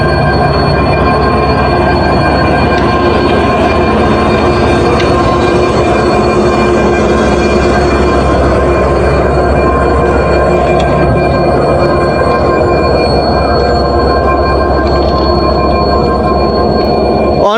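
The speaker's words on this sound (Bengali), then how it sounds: "অন ট্রেন হয়ে দাঁড়িয়ে আছে ইন্টারসিটি সুন্দরবন এক্সপ্রেস 6639 লোকো।" Intercity Sundarban Express hauled by locomotive 6639, a loud, continuous rumble of train wheels and carriages with steady rail noise and squealing, close by for the whole stretch with no talk.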